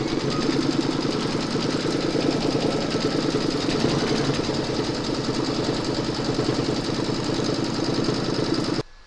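Embroidery machine stitching a quilting round through fabric secured in a hoop, a steady rapid mechanical chatter with even rhythm, close and continuous until it stops abruptly at the end.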